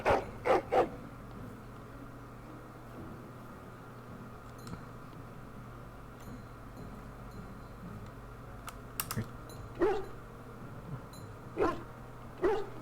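A dog in a Dragon Age Origins game barks in a few short bursts, one pair at the start and more near the end, over a steady game background with keyboard clicking.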